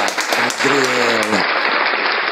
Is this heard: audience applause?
yes